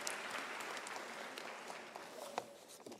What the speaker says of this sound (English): a round of applause for all our graduates